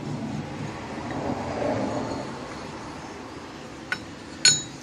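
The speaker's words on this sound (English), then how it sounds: "So I'm taking the spindle off right now." Two sharp metallic clinks ring out near the end, from a spindle being removed from a 1951 NAPCO truck, over a quiet, hissy workshop background.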